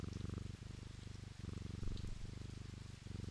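A cat in a video game purrs softly in a steady rhythmic rumble, the cycles repeating about every second, and nobody speaks over it.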